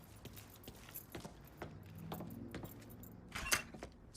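Keys jangle softly in the Mafia 3 video game, with light metallic clinks scattered over a few seconds and a brighter rattle near the end, faint against a low background rumble.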